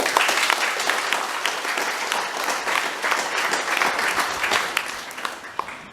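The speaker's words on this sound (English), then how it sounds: "they need a very big round of applause" A graduation audience at TMSS applauds in a big sustained round, dense steady clapping from many hands for the full stretch with no talk over it.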